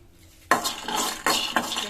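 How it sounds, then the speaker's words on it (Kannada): Peanuts roasting in a pan, stirred at about 0.5 and 1.25 seconds with loud metallic scrapes and rattles, and a quieter sizzle between the strokes. "ಅದೇ ಒಂದು ಬಾಂಡ್ಲಿಗೆ ತಗೊಂಡಿರುವ ಕಡಲೆ ಬೀಜನೂ ಕೂಡ ಹಾಕೊಂಡು ಒಂದ್ 2 ನಿಮಿಷಗಳ ಕಾಲ ಫ್ರೈ ಮಾಡ್ಕೊಳ್ಳೋಣ."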